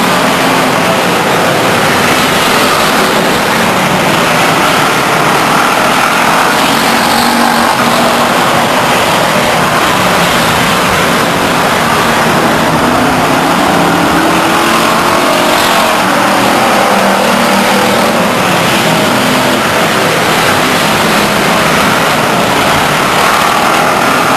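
Race cars at Stockton 99 Speedway roar around the oval, a dense, loud, continuous wall of engine noise with swelling passes and no pauses.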